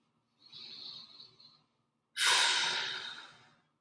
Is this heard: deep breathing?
yes